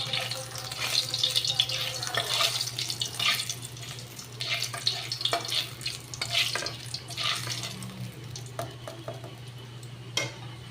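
Nigella seeds and torn dried red chillies fry in hot oil as a tempering for dal, giving a steady close sizzle with the clink and scrape of stirring throughout and no talking.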